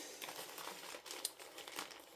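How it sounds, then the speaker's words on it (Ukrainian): Plastic bags crinkle and rustle in a steady run of close, soft crackles with one sharper crunch near the middle, no voices heard. "У мене є два ось таких пакета"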